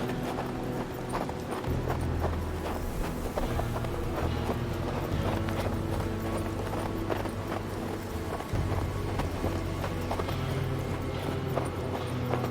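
Horse hooves clip-clop in a steady rhythmic trot in the video game Hard West 2, continuous throughout, over a droning background of ambient music.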